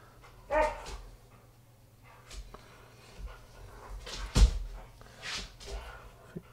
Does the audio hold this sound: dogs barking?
yes